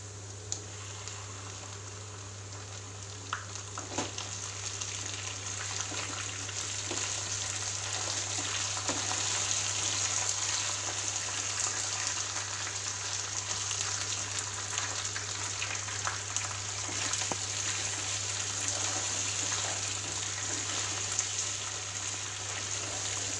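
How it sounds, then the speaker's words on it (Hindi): Chicken frying in a pan of golden-browned onions for a shahi chicken korma, giving a steady, dense sizzle with scattered crackles over a low constant hum throughout, no voices. "तब हम इसमें चिकन डालेंगे।"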